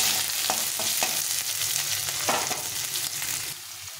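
Potatoes frying in a pan for a vegetarian vegetable dish, a steady close hiss and crackle of oil with a few soft stirring scrapes, fairly loud throughout and without talk.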